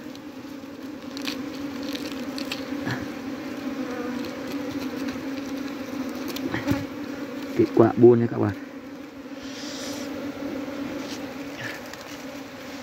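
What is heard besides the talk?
honeybees buzzing around a nest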